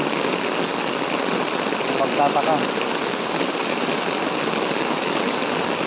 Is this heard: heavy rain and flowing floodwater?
yes